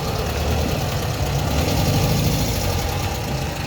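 An air-cooled Volkswagen engine idles steadily, a loud, close, rough mechanical drone with a faint knocking texture and no voices over it.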